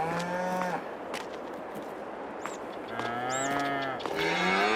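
Several cows moo in a Farming Simulator 22 dairy herd on an old Polish farm, with long overlapping calls rising and falling over a steady ambient background.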